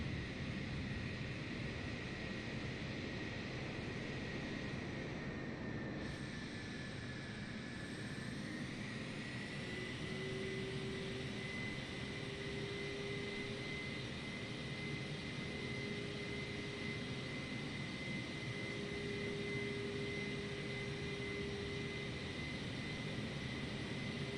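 Aircraft engines drone steadily at an airport, a constant broad roar with a high whine that shifts in pitch partway through, heard from inside with no talking.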